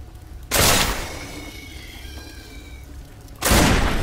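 Gunshots in the video game Risen 2 as a player shoots termites: two loud blasts about three seconds apart, with a fading game ambience between them.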